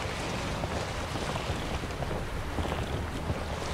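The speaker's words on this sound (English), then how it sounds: "It's actually the creaking of the boat." Wooden boat creaking while sailing in The Witcher 3, a steady wash of wind and water noise running throughout with low, irregular groans beneath it and no speech.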